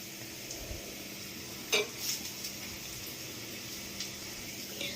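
Grated potato fries with onions in a pan, a faint low sizzle running throughout with a single sharper clink of a utensil and a few soft stirring sounds.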